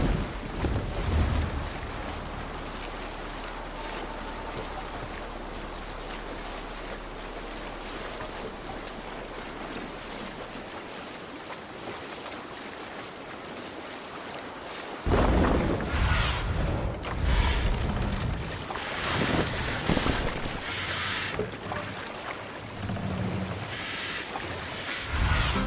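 A sailing ship at sea in Assassin's Creed Valhalla, with steady wind and rushing water throughout that swell louder partway through as waves and spray pick up.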